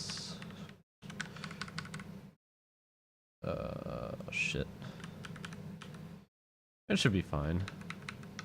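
Notes typed on a computer keyboard in quick bursts of clicking keys, broken by short silences, with a voice muttering briefly between the bursts.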